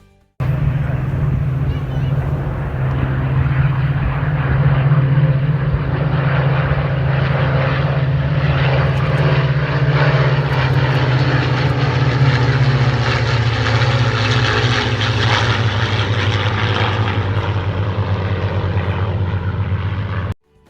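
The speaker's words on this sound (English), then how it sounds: "They then fly by several times, giving all the onlookers the goosebump sensations as the Merlin engines roar past" Vintage aircraft with Merlin engines fly past at the Goodwood Revival airfield, a loud continuous roar with a deep steady drone that swells and shifts in pitch as the engines pass, filling the whole stretch without pause.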